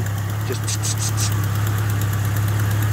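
A Ford Capri's Pinto engine idles steadily with a low, constant rumble and a faint rhythmic chuff from a leaking exhaust manifold gasket, close by, with a brief spoken word near the start.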